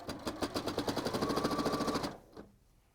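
A sewing machine hems the top edge of an apron in a rapid, even run of stitches for about two seconds, then stops, followed by one faint click.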